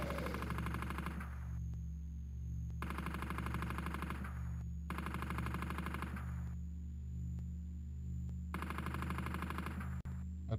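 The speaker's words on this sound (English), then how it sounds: "if you hold down fire, it'll keep firing while you move backwards" Rapid, continuous gunfire from a retro arcade-style shooter played on Antstream, loud bursts of rattling shots in four long runs separated by short gaps, over a steady droning game background.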